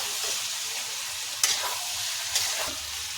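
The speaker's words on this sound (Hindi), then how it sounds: "चटनी डाला है तो भूनना पड़ेगा।" Green potato curry mixed with chutney sizzles and fries in a pan while being stirred, a steady hiss broken by two sharp scrapes of the spoon against the pan.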